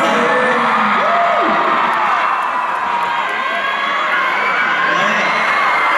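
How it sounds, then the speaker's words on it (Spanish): A large crowd at an event in the Auditorio Nacional roars with cheering and whoops, a loud, continuous wash of voices with shrill shouts rising throughout. "Un fuerte aplauso, por favor"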